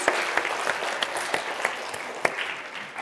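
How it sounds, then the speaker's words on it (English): A live-show audience breaks into a round of applause, steady dense clapping with a few sharper claps standing out, fairly close and without talk. "I think that deserves a round of applause."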